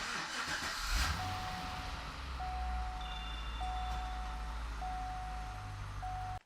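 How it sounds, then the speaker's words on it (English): A Cadillac CTS-V with its 6.2L supercharged V8 fires up with a brief cranking burst and then settles into a steady, low rumbling idle, accompanied by a faint intermittent high tone. "Now we're going to start the car up and let it run for about 30 seconds."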